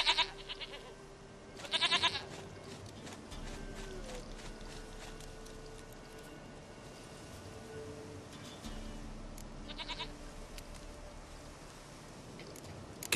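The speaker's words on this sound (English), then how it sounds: "Goat of mine, dearest, sweetest goat." A goat bleats in The Witcher 3 video game, giving short nasal cries near the start and again later over a dim in-game ambient backdrop, with no talking.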